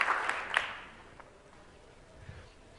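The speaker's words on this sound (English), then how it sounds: "Good applause." Scattered clapping from a small workshop audience, a few sharp claps up front that quickly thin out and fade into quiet room tone, with a faint murmur near the end.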